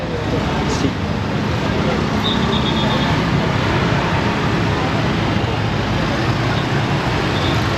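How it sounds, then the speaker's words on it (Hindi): A traffic jam on a packed road in Ubud, Bali gives a dense, steady wash of engine rumble from nearby cars, buses and scooters, with faint brief horn tones. "और बहुत ही गंदा ट्रैफिक है, ये मैं दिखाता हूँ आपको ट्रैफिक जैम।"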